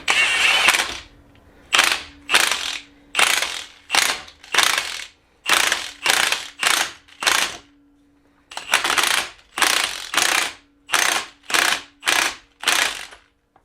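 A ratchet wrench tightens a nut on the rear axle of a Foxbody Mustang during a 5-lug swap, loud and close, in rhythmic bursts of rapid clicking separated by brief pauses.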